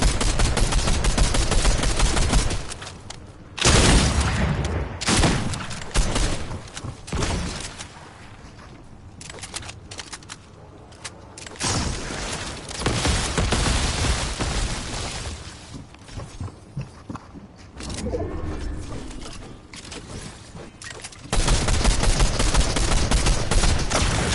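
Rapid gunfire from Fortnite gameplay, including a goo gun, with loud repeated bursts and volleys separated by quieter stretches, heard without talk.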